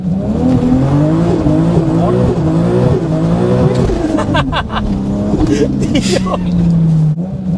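A tuned Toyota Supra revs hard and spins its wheels on a wet road, its loud engine note rising and falling with tire squeal, and a voice briefly exclaims.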